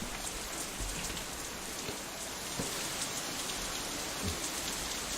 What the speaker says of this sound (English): There's more rain, guys!